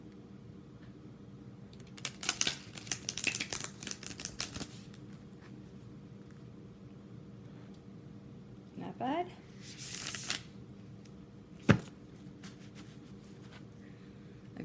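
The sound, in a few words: riffle shuffling a deck of cards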